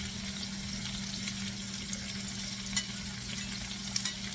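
Fennel pieces browning in a hot pan give off a steady, fairly faint sizzle, with a few soft clicks and bumps near the end.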